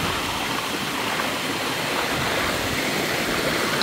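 Water rushing steadily near a jungle waterfall, heard as a dense, even hiss of flowing water that continues without a break.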